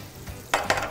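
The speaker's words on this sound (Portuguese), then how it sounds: "Estou colocando panela já aquecida. Vamos colocar um pouquinho de azeite de oliva para não queimar." Olive oil hits a preheated pan while a kabocha squash and chicken gratin is cooked, giving two short, close sizzling bursts over a quiet kitchen background.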